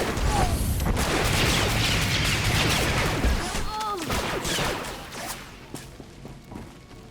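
Turret gunfire rattles in Star Wars: The Old Republic on Hutta, a dense fusillade of rapid shots and thumps that fades toward the end, mixed with swooping mechanical game effects.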